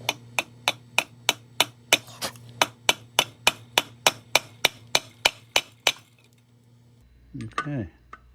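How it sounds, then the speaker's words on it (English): About twenty evenly spaced metallic taps of a hammer on a pool pump seal ring out in a steady rhythm, followed by a brief burst of speech. "we're going to tap it with a hammer"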